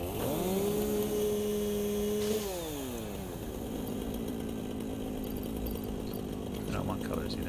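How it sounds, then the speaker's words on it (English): A chainsaw in the factory-building game Satisfactory runs at a steady buzzing whine, dips in pitch as it bites, then keeps grinding at a lower, rougher drone for several seconds. "Chainsaw time."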